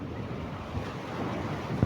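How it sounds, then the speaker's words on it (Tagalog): Large ocean waves wash onto the shore in a steady roar of surf with wind noise on the microphone and a soft thump near the end, with no talking. "sobrang laki ng alon"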